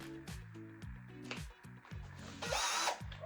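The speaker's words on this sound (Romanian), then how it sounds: "După aceea luăm bormașina, 2 secunde." A power drill removes screws at a wall electrical box during a 220V in-wall smart WiFi switch installation: short, close whirring bursts rev up and stop in a quick repeated rhythm, ending with a harsher grinding spin.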